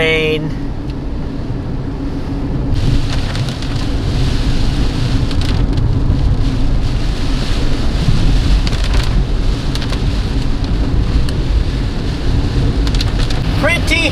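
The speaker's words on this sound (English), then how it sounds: "It's the rain. It's here." Heavy rain pours steadily and loudly during a car drive, a dense hiss that swells a few seconds in and stays constant with rumbling underneath.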